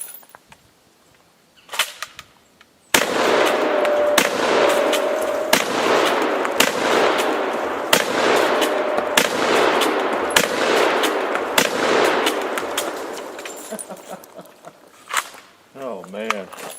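Shotgun blasts from a Turkish shotgun strike a propane tank outdoors, a rapid string of loud sharp reports and metallic impacts packed closely together, with a brief pause before the volley and a fading ring at the end.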